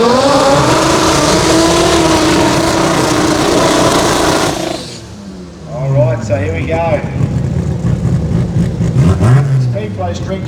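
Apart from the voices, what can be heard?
small tyre drag race cars revving and accelerating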